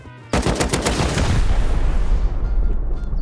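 Rust video game gunfire: a loud burst of rapid automatic fire erupts after a brief quiet moment, followed by a dense, rumbling roar of continued shooting and booms.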